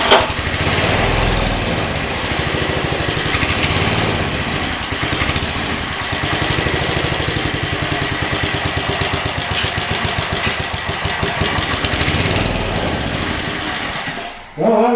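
An older Briggs rototiller engine on half throttle and half choke runs with a loud, steady, buzzing putter for most of the span, then abruptly cuts out and sputters near the end.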